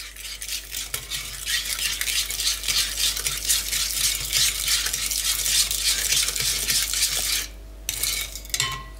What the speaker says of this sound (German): So, jetzt ein bisschen umrühren.